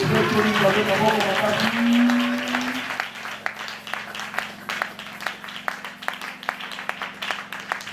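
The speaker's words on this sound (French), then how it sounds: "Est-ce qu'on peut acclamer notre Dieu?" A Sunday church congregation breaks into applause and cheering. Voices and a sustained tone fill the first seconds, then a dense patter of clapping continues steadily to the end.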